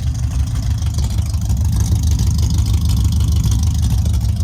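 Corvette Stingray convertible engine idling through a loud cherry bomb exhaust, a steady deep rumble that stays near and constant throughout with no talking.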